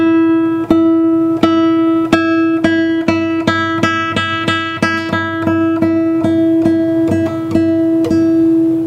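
J.Godoy J3 acoustic guitar played with a soft tone, a steady run of plucked notes with clear ringing harmonics, moderately loud and close, no voices.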